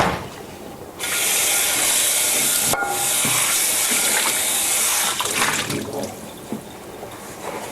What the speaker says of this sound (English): I'm going to give this pan a quick rinse.